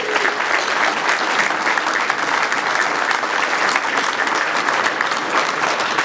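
Sustained, dense applause fills a room at an engineering award presentation, a steady crowd clapping at full volume throughout without pause.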